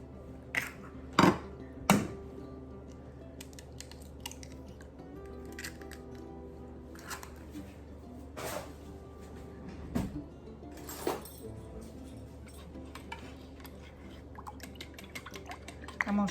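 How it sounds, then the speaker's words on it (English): Eggs are whisked into milk with a fork in a bowl, bright clinks and taps of metal against the dish over a quiet kitchen background, with a few sharper knocks early on. "I'm just gonna put these eggs right in the milk here, and we're just gonna mix them with a fork."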